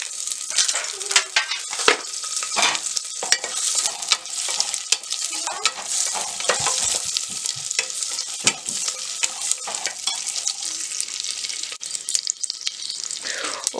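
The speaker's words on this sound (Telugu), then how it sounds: "2 టేబుల్ స్పూన్స్ వరకు జీడిపప్పు వేసుకొని ఫ్రై చేసుకోవాలి." Cashews frying with green chillies and spices in a pan, a busy, close sizzle broken by frequent sharp crackles and spoon scrapes in an uneven rhythm, with no speech.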